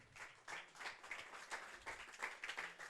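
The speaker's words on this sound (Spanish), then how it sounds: "dale un fuerte aplauso al Señor" Church congregation clapping for the Lord during a sermon, a faint, distant patter of many hands in uneven rhythmic bursts over about three seconds.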